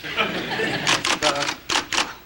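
Rapid bursts of keystrokes clatter on an electric typewriter, several quick clusters of sharp taps under a background of talking voices.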